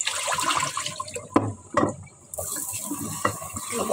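Tap water runs and splashes over green radish soup ingredients as they are rinsed in a kitchen sink, with uneven pours, brief clatters and short pauses.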